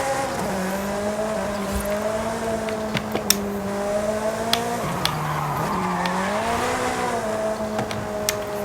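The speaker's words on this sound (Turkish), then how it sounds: "Baksana egzozlar nasıl patlıyor" Ferrari engine in Forza Horizon 5 droning steadily with rising and falling pitch as it revs, punctuated by several sharp exhaust pops and crackles scattered throughout, with no talk.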